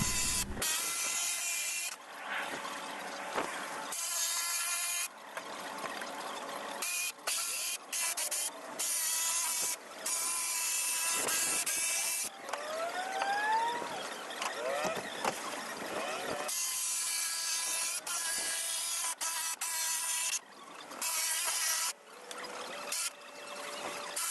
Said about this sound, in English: I'll use a marker so I can see where to cut the shape out with the jigsaw. Now we'll cut the legs out.